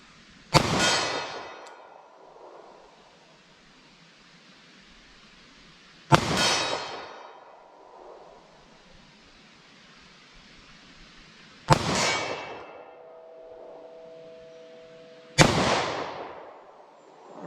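A snub-nose revolver fires four single-action shots at targets 40 yards away on an outdoor range. Each sharp, loud crack is spaced several seconds apart and rings out into a decaying echo, with a faint metallic ring after one shot.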